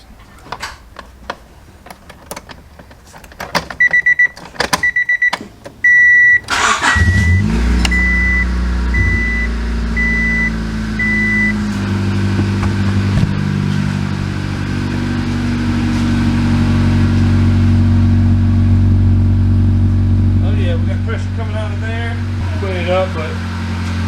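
A car engine cranks with repeated starter bursts and chimes, then catches and settles into a loud, steady idle with a few revs, with brief talk over it.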